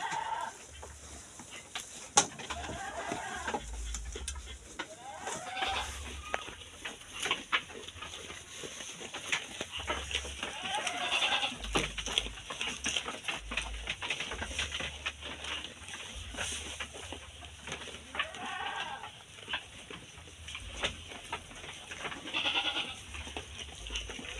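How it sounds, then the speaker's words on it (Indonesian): Local-breed sheep bleat repeatedly at intervals amid a noisy pen, with shuffling, rustling and low thumps in the background. "jenis domba lokal"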